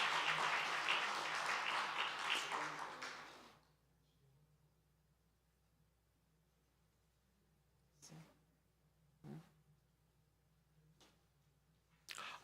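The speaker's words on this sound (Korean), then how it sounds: "인사하고 들어갈 때까지 박수하며 축복합시다" Church congregation clapping during a Christmas service, a dense burst of applause for about three seconds that then stops abruptly, followed by a quiet room with a few faint knocks.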